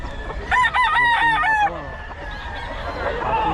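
A pumpkin sweater gamefowl rooster, a bull stag, crows loudly and close, one long multi-note call, with clucking and faint voices around it afterward.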